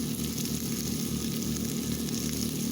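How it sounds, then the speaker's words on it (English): Potatoes fry in a pan over an open campfire, giving a steady close sizzle with a low crackling rumble underneath. "So now I'm frying the potatoes."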